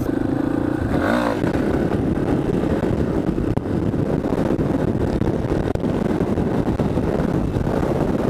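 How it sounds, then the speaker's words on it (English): Strong, steady wind roars across the microphone while riding a dual-sport motorcycle, with engine revving beneath it and a brief clatter early on, continuous and loud throughout. "It is ridiculously windy out today."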